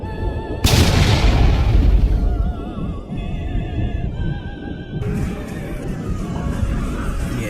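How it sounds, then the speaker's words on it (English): A huge explosion booms in a sudden loud blast, followed by a long roaring, rumbling wash of sound that stays dense and loud for several seconds, with voices faintly mixed in. "a great explosion would illuminate everything"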